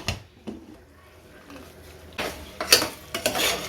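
Scraping and clinking from a spoon stirring beef in a metal pressure cooker, with faint sizzling and a few louder knocks toward the end.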